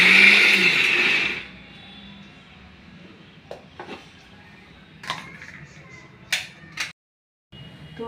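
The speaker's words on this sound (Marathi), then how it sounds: "तरी मिक्सरमध्ये मी काढणार आहे याला." Mixer grinder grinding roasted chillies for onion thecha: a loud whirring burst that cuts off after about a second, followed by quiet clicks and knocks of the jar being handled.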